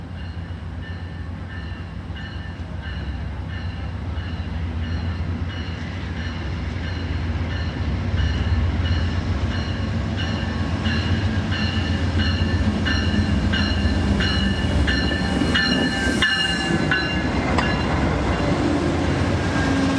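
A passenger train rolls across a trestle on its slow approach into San Luis Obispo, a steady rumble of wheels and rail noise with metallic squeals and clanks building toward the end.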